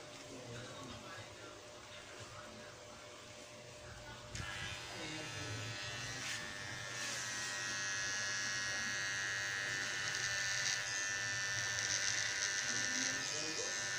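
A Kemei KM-032 electric hair trimmer runs with a steady close buzz that grows stronger partway through and continues evenly, with quiet talk around it.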